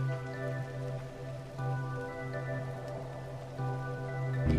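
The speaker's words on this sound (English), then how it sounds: "You can hear them sizzling." Steady crackling sizzle of sweet potatoes frying in a pan, continuous and close, with a faint hum underneath.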